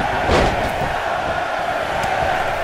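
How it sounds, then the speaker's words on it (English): Arena crowd in a WWE 2K19 Royal Rumble match: a dense, steady roar of many voices swelling briefly at the start and holding at a loud, continuous level with no separate speech on top. "Listen to this crowd count the next one in."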